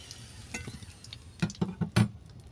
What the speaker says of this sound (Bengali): এই তেলের মধ্যেই ফোড়নগুলোকে দিয়ে দেবো।